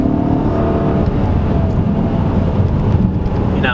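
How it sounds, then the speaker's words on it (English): 2016 Dodge Charger R/T with a 5.7 liter Hemi V8 accelerating hard in third gear, a steady deep engine roar heard from inside the car, loud and continuous without talking. "But here we are in 3rd gear pull."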